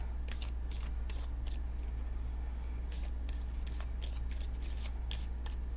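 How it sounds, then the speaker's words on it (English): Tarot cards are shuffled by hand in a rapid series of crisp riffles and flicks, close and steady over a constant low hum, with no talking. "Two more shuffles."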